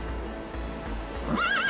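A horse gives a single rising, wavering whinny near the end, preceded by low rhythmic thumps that may be hoofbeats, with no talk.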